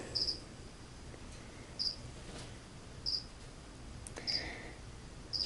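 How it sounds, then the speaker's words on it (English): A feeder cricket set out for a tarantula chirps in short, evenly spaced bursts about every one and a half seconds, near and fairly clear over a soft background hiss. "That cricket's gone."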